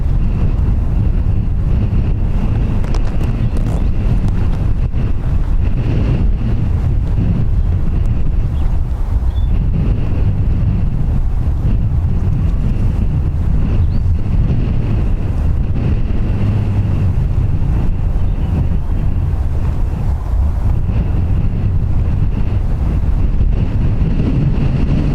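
Strong crosswind batters the microphone at Dublin Airport, a loud continuous low roar of buffeting gusts lasting the whole stretch, with a faint steady engine whine behind it and no voices.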